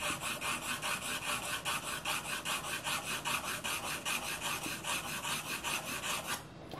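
A pencil is drawn in quick, even strokes across paper for a basic pencil sketch, a steady rhythmic scratching of roughly two strokes per second that stops abruptly at the end, with no talk.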